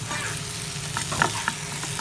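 Fried quail pieces stirred into a pan with tomato and onion, a steady close sizzle beneath scraping spoon strokes and a few sharper clinks.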